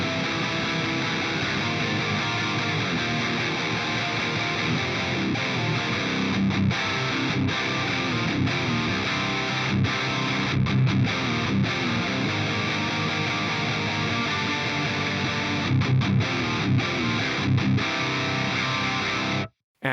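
Heavily distorted electric guitar played through a Nembrini Audio BST100 Soldano amp plugin, mids pulled down with bass and presence boosted for a Rectifier-style tone; dense, loud and continuous riffing with brief chugging breaks, cutting off abruptly at the end.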